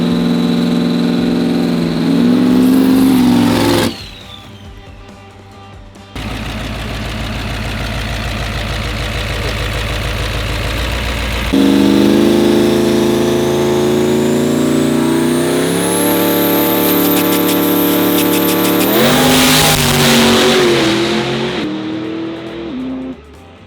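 A diesel pro dragster launches down the drag strip, its engine roaring loud and close, then rising through several climbing, shifting pitches before a sudden cut and a final surge, with no voices.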